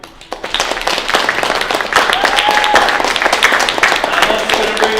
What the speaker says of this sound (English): Please give me a round of applause and introduce and welcome our special guest